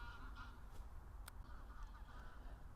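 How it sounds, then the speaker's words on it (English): Faint honking calls of geese passing overhead, a few spaced cries over a steady low outdoor hum. "some birds just flew over and they made this beautiful sound"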